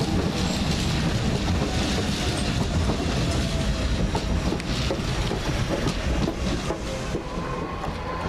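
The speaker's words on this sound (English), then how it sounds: "On the right is a bank train" An underground train rumbles steadily past at Shadwell with clattering wheels and a broad low roar, loud and close throughout, with a faint squeal riding over the noise.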